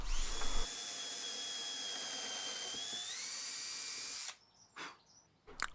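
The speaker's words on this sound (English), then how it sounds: "I then drill the holes through from the top." A power drill bores holes from the top through a wooden router track guide, a high, steady whine lasting several seconds that shifts pitch once, then stops, followed by brief rattles.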